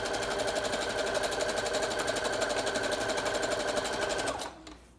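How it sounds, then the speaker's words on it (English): A sewing machine stitches lace in a rapid, steady mechanical chatter for about four seconds, close and loud, then winds down and stops abruptly near the end. "I'm just actually going to use my sewing machine"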